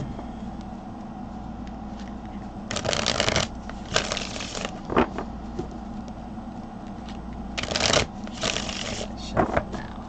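Tarot cards are shuffled in several quick bursts of riffling and patter, close up with pauses between them, over a steady low background hum.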